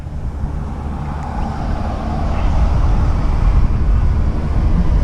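A Mokwheel Onyx mid-drive e-bike runs at full throttle, heard as a steady wind-buffeted roar that builds slightly louder midway. No one speaks over the rushing noise.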